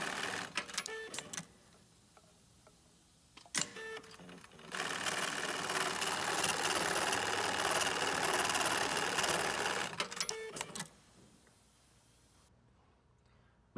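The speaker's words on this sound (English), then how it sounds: "Mitsubishi Eyelet programmable sewing machine." Mitsubishi PLK-B03BT programmable cap eyelet sewing machine running a loud, steady mechanical whir for about six seconds, framed by short clicking and clattering bursts of handling before and after.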